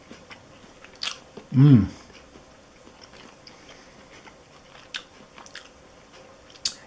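Someone takes a single close, crunchy bite of brined boneless pork shoulder roast cooked on a charcoal grill, followed by soft chewing and a quiet appreciative murmur.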